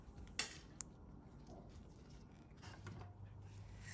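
A few sparse knife taps and soft cutting sounds of peeled mushrooms being sliced on a board, quiet and close, with a sharp click near the start.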